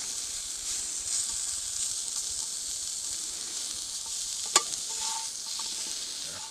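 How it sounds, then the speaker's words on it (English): Diced apples with cinnamon and a little butter sauteing in a cast iron pan, giving a steady soft sizzle and hiss throughout with one brief sharp clink partway through. "I'm going to add diced up apples with some cinnamon and a little tab of butter. And we're just going to heat those up and saute them a little bit."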